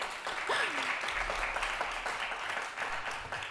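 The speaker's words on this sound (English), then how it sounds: "an applause for the first ever conference talk like this" Audience applause at an accessibility conference summit after a talk, a steady wash of many hands clapping throughout, moderately distant, with a faint voice briefly rising over it near the start.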